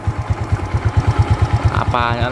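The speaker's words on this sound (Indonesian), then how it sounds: "Ini suara mesinnya sih masih cukup halus sih menurut gue." A Yamaha Mio Sporty scooter engine idles close up with a steady, even low-pitched putter, smooth and regular, and a person speaks briefly over it toward the end.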